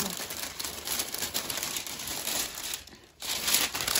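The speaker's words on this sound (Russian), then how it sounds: "Аккуратненько пленку открыть." Plastic film wrapping on a clothing parcel being pulled open and crumpled, a continuous close crinkling and rustling with a brief pause near the end before the crackling resumes.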